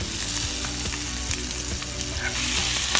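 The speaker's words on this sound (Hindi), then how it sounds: "तो इस मिक्सचर को हम अच्छे से तेल में फ्राई करेंगे" Coarsely ground cumin and chili mixture frying in hot oil for Mumbai vada pav chutney, a dense continuous sizzle with crackling pops throughout, close and steady, no voices.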